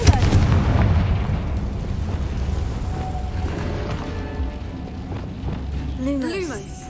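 A Confringo blast curse explodes in Hogwarts Legacy, a heavy booming hit at the start that rolls into sustained low rumbling and game clatter, with a faint rising whistle near the end.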